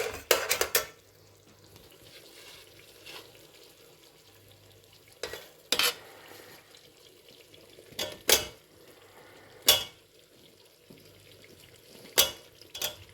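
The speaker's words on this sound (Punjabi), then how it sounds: "ਗੋਭੀ ਨੂੰ ਆਪਾਂ ਚੰਗੀ ਤਰ੍ਹਾਂ ਹਿਲਾਵਾਂਗੇ ਜੀ" A utensil stirs cauliflower and potatoes for aloo gobhi in a cooking pan, scraping and clattering in sharp irregular bursts separated by quiet stretches of faint sizzling.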